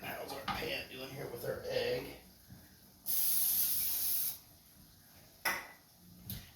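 A sunny side up egg frying in a hot pan gives a loud, steady sizzling burst lasting about a second, with quieter crackles and a voice around it.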